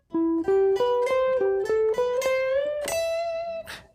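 A clean guitar plays a short harmonized lick in thirds, two notes moving together in steady picked steps and ending on a held, ringing pair on E.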